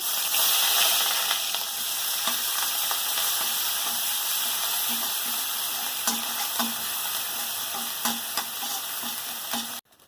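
Grated onion and slit green chili go into hot oil for a Bengali mustard pabda fish dish, raising a loud, steady sizzle and hiss that runs almost unbroken for ten seconds with faint stirring taps, stopping abruptly at the end.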